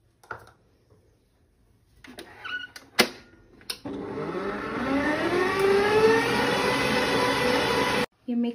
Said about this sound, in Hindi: अब हम इस एवोपरेटेड मिल्क में कंडेंस मिल्क ऐड करके इसको दोबारा व्हिप कर लेंगे।